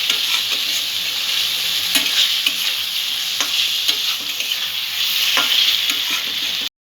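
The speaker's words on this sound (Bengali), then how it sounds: "ডিম দিয়ে সমস্ত মশলাটা একটু ভালো করে মিক্স করে নেব।" Eggs stirred into a sizzling spice masala in a pan: steady loud frying hiss with repeated scraping stirs, ending abruptly.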